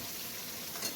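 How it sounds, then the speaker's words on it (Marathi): Ground masala paste frying in oil in a wok while being stirred for an egg curry, a soft steady sizzle with light scraping, quiet and close with no voices. "आपण हे वाटण आता छान परतून घेणार आहोत तेल सुटेपर्यंत."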